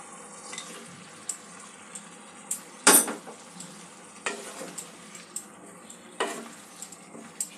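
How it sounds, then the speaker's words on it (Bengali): Chicken being stirred into gravy in a pan for sweet and sour chicken, with scraping spoon strokes, a few sharp clanks against the metal and a low simmering sizzle underneath, close and fairly quiet. "সমস্ত গ্রেভির সাথে ভালো করে মিক্স করে নেব।"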